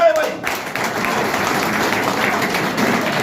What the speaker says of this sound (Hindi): मुख्य अतिथि के लिए एक बार को तालियां बजाई जाए